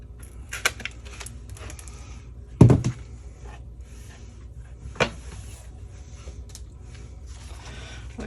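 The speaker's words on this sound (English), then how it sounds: "I just need to get holes punched in so that I know where to put that die cut." A paper punch template being pressed to punch holes for a die cut in card crafting, giving a few sharp isolated clacks and thumps, one louder snap near the middle, with quiet room noise between.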